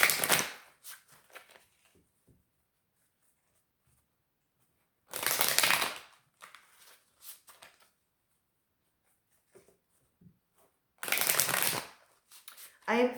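Power of Surrender oracle cards being shuffled by hand, three crisp riffling bursts several seconds apart with a quiet voice between them.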